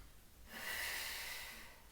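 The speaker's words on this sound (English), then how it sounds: "breathing out to lift up, breathing in to come back down" A single breath out during a Pilates lift, a soft, breathy exhale lasting about a second, close and quiet.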